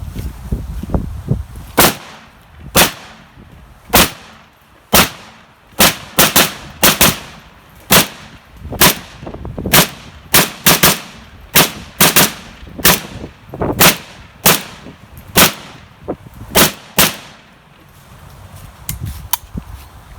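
A Yugo Zastava M72B1 rifle fed from a Soviet 40-round RPK magazine fires roughly two dozen loud, sharp single shots at an uneven, fairly quick pace, each crack close and echoing briefly, with no talk.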